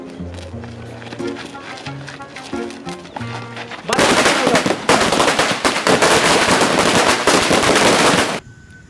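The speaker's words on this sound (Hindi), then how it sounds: "भाई बम तो फट गए सारे एक साथ" Loud rapid crackle of Diwali firecrackers exploding together in a dense continuous burst for several seconds, following quieter music-like tones and ending abruptly.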